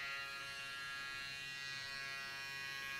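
Electric close shaver buzzing steadily while cutting a true-zero skin fade on a woman's short mod haircut, a continuous, even motorized hum held close and at constant level, with no talking.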